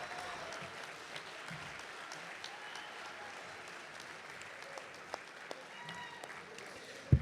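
An audience at an International Boxing Hall of Fame event applauds steadily for several seconds, a dense even patter of many hands heard from a moderate distance, with faint voices mixed in.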